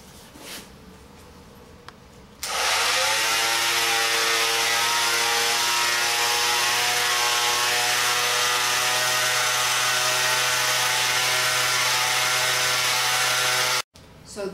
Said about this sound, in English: I'm going to use a sander to sand off these sharp edges